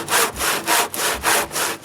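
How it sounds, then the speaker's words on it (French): A hand saw cuts through the last end of a wooden beam during workshop construction, four or so even push-pull strokes in a steady rasping rhythm, loud and close with no voices. "Le dernier bout que la scie circulaire ne peut pas couper, lui, il est coupé à scie à main."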